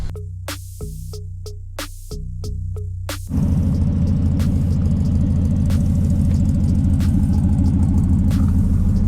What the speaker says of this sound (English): when I press on it, I can hear the engine coming out